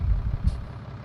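Truck engine rumbles in Farming Simulator 19, with a brief air-brake hiss near the middle over a steady low drone; short and moderately loud.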